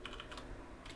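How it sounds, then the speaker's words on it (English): Quick, close keystrokes on a computer keyboard during coding, a handful of light taps in an uneven rhythm over about a second. "I'm just going to type it"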